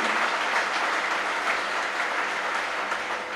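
Crowd at a Solid Silver Sixties Show concert applauding a guitarist, a thick sustained wash of clapping from a large audience that holds steady and eases slightly toward the end.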